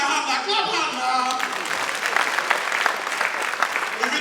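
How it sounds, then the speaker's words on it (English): An audience at a comedy jam and award night claps and applauds steadily, a dense crowd patter over a voice speaking through a microphone at the start. "Keep clapping for God."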